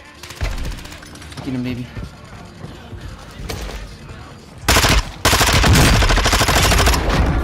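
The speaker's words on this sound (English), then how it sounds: "I'm getting shot at." Rapid automatic gunfire and scattered shots in a Call of Duty Warzone Resurgence match, loud bursts that get heavier toward the end, with players talking over the fire.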